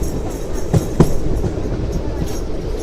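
The Seshadri Express rolls into platform 2 at Chittoor station, a steady rumble of carriages with a couple of sharp wheel clacks close by, and faint voices in the background.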